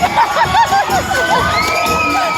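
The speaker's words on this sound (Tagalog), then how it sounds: "Sigawan ang labanan dito, guys!" Dense crowd at a queen pageant event in Singapore shouting and cheering loudly, overlapping whoops and screams close by, continuous and energetic.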